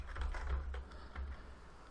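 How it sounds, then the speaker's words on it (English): Quick, light clicks of typing a password on a computer keyboard, a short burst of several close keystrokes, quiet and unaccompanied by speech. "we're able to type in the password for this person"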